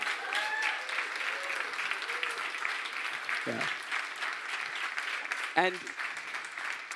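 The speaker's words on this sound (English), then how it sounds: "A warm round of applause for Göttingen" A warm round of applause rings out from an audience at a solar company event, steady dense clapping filling the room throughout, with a man's brief spoken interjections cutting in over it.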